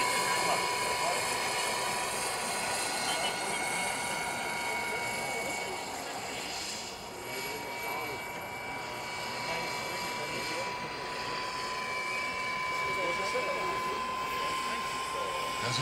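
A steady high-pitched turbine whine with a droning rotor hum from a kerosene-fuelled RC Bell 206B-3 JetRanger scale model helicopter holds throughout, fairly distant and even, with faint background voices at an air show.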